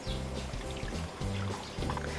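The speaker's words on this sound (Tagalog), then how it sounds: "And then buhos tayo ng 1 cup of water." A cup of water poured into a pot of small potatoes for water-based cabbage kimchi, a steady splashing trickle with low hum beneath, moderately faint and uninterrupted by speech.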